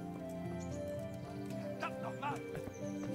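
Horse hooves clip-clop and a horse whinnies in the medieval role-playing game Kingdom Come: Deliverance, heard under steady game ambience and background music.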